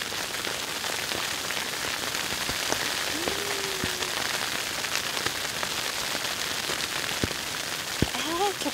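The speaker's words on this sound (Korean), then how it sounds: "빗소리가 너무 듣기 좋네." Rain falling on a tent or tarp during a rainy-weather camping trip, a steady close patter of drops with a few sharper ticks and a brief voice or squeak toward the end.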